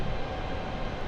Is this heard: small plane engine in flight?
yes